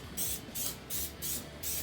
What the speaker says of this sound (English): I'm gonna get some coconut oil spray.